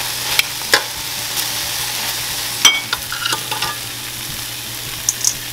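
Black pepper toasting in a dry pan for fried fish wrapped in egg, with steady close sizzling and occasional scraping clicks of stirring, no voices.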